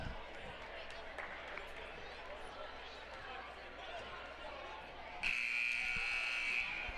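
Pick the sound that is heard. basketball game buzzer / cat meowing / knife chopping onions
basketball game buzzer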